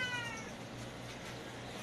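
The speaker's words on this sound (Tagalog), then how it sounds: "Daming pusa." Several house cats meow at a home, overlapping high cries with a steady background hum, fairly close and moderately loud throughout.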